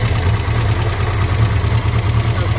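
A 1970 MG Midget engine running with its radiator disconnected, idling close by in a steady, rough, low rumble with a rapid rhythmic pulse and no voices.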